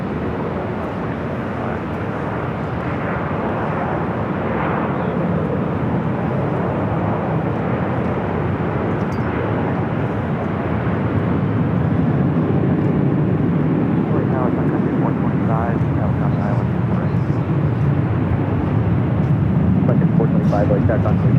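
An airliner takes off from runway 24 left at Los Angeles airport, its broad jet roar building steadily and growing louder over twenty seconds while radio voices talk over it.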